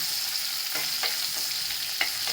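Garlic frying in hot oil for a Bombay duck curry, a steady bright sizzle with a few stirring scrapes, close and continuous with no voices.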